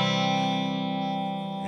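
An electric guitar played through an Aclam Dr Robert overdrive pedal into a Deluxe Reverb amp rings out as one sustained, fading chord, heard alone and fairly loud.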